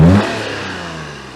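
A Daihatsu Charade with a swapped engine runs close by, a brief loud rev fading into a smooth, even hum.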